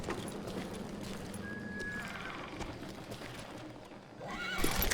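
A horse in the video game Call of Juarez: Gunslinger gives a short whinny, followed by clopping hooves, all set against a busy, steady backdrop of game sound.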